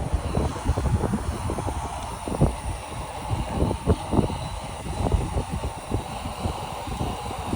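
A VMVAPORIZER Turbo vaporizer runs on its lowest setting with the trigger held down, giving a steady close-up roar of rushing air with slight fluctuations throughout.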